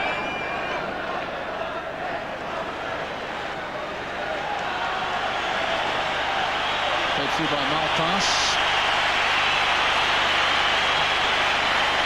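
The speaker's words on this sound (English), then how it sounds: "The big cheer going around the ground is because Henrik Larsson may well be about to enter the fray." A large football crowd at Celtic Park roars in a broad, sustained swell of cheering that builds steadily through the stand, with a commentator talking over it.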